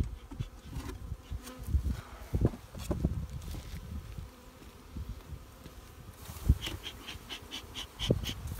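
Bees buzz close by during a honey harvest in Niğde, Bor, a faint steady drone with brief louder passes and soft knocks and rustles, no talking.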